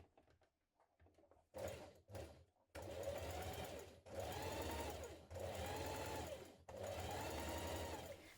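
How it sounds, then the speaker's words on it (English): A sewing machine stay-stitches around the front neck edge of a blouse in several sustained bursts separated by short pauses, preceded by a few brief clicks and handling noises, close and clear. "we're going to stay stitch around our front neck edge"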